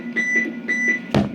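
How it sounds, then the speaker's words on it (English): Roger beep from a Galaxy DX 55HP mobile CB radio, two short repeated electronic tones followed by a sharp click, loud and close. "Roger beep works."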